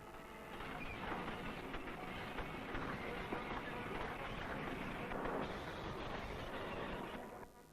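Ore train rumbling steadily through a large underground copper mine tunnel in Zambia, a loud continuous roar with faint rattling that fades slightly at the end.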